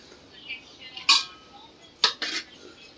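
Rice goes into a pot of chicken biryani with a few sharp metallic clinks and scrapes of utensil against the pot, spaced out over a quiet kitchen background.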